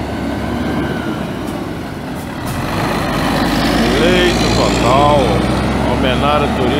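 Two Santa Terezinha company buses pass close by, a loud rumbling engine drone that builds and holds, with people talking over it.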